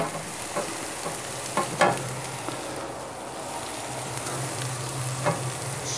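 Bread sizzles in an oiled frying pan where bacon was just fried, a steady close crackle with a few scraping stirs and flips, no talking.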